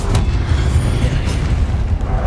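A Confringo fire spell explodes in the Hogwarts Legacy video game as a loud, continuous low booming rumble that holds steady without clear separate blasts.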